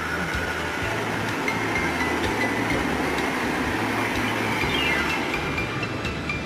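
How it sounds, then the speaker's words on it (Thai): High-speed train passing alongside in Switzerland, a steady loud rumble with rhythmic clickety-clack of wheels over rail joints, recorded from aboard another moving train. "แล้วเราก็ถูกแซงไปด้วยรถไฟความเร็วสูง"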